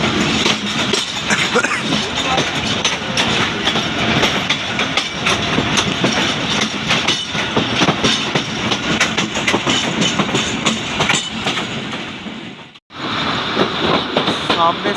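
The Khyber Mail passenger train of Pakistan Railways pulls out of Rohri yard, with loud, continuous rumbling and clattering wheels heard close up from on board, then a brief sudden dropout near the end.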